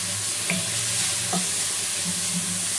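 Continuous sizzle of food cooking in a pan, with a few soft scraping stirs, steady and close, no talking.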